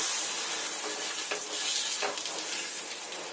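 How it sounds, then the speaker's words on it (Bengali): A flipped flatbread fries in oil in a pan, giving a steady broadband sizzle with faint crackles, close and continuous, no voices. "পিছন পিঠটাও ভালো করে ভেজে নিতে হবে।"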